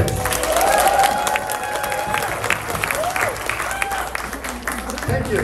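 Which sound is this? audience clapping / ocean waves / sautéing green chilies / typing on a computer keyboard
audience clapping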